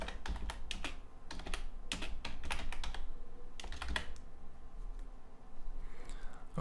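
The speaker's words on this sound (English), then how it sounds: "I grab my text tool and I'm going to create some text. I type in add to cart." Rapid, close key clicks from typing on a computer keyboard, a steady run of taps with brief pauses, no talk.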